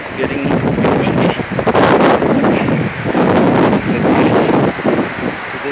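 Strong wind buffets the microphone in loud, continuous roaring gusts at the edge of a river beach in Firehole Canyon, Yellowstone, with a faint wash like surf underneath.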